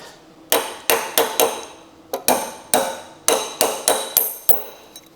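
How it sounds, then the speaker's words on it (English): Series of about a dozen sharp metallic taps on a lawn mower part near the carburetor, irregularly spaced with ringing decay, close and loud. "Let's get something and tap that right there."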